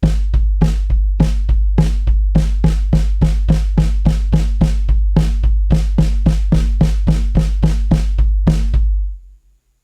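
A drum kit plays an eighth-note snare pattern over a steady bass-drum foot ostinato, with crisp, evenly spaced hits and a constant low thump, loud and close, ending abruptly with no talking.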